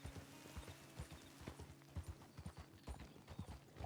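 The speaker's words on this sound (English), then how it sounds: "That is a big horse." A big horse walks along with steady, close clip-clopping hooves, an even rhythm of sharp knocks continuing throughout with no talk over it.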